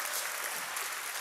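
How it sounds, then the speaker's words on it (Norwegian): A church congregation claps through a short burst of applause, a dense, soft hiss of many hands heard from a distance. "Det kan vi klappe for."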